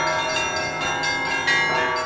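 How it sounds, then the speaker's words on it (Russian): Church bells peal together in a dense, ringing clang for an Easter procession, overlapping strikes sustaining throughout with no voices. "Приближались под аккомпанемент церковного перезвона, радостного, громкого благовеста."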